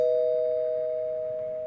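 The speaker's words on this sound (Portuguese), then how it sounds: "a campainha tocou" A doorbell rings with one steady sustained electronic tone that holds for the whole moment and fades slightly, clear and alone against a quiet background.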